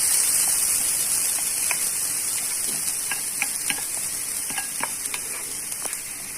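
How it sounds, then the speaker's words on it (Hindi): Grated coconut frying in a pan for a Mangalore-style coconut banana fry, with a constant bright sizzle and scattered light ticks and crackles as it cooks, no voices. "और हम जब तक इसको फ्राई करेंगे जब तक ये गोल्डन ब्राउन ना हो जाए"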